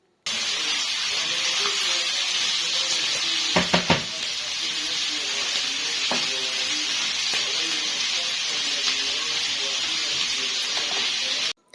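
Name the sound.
chicken liver and gizzards being stir-fried in a pan on high heat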